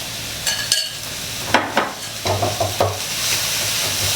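Mama instant noodles, already seasoned with sauce and sugar, are stir-fried over high heat in a pan, a steady sizzle punctuated by repeated scraping and clanking of a spatula against metal.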